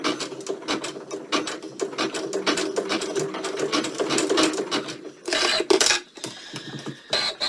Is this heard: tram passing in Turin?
no